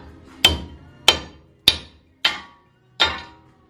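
Five sharp hammer blows strike a Toyota Tacoma's wheel studs to knock them out, evenly spaced about half a second apart, each a loud metallic crack with a short ringing decay, close and alone.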